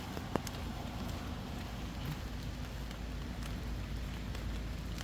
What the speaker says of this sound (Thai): แต่ตอนนี้ฝนมันก็ตกอยู่แต่ว่ามันตกแรงหรือเปล่า